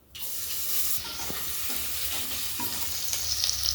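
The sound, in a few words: cumin and garlic frying in a pan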